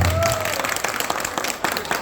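Crowd applause with scattered clapping, fairly loud and steady for two seconds, with a brief tonal whine at the start.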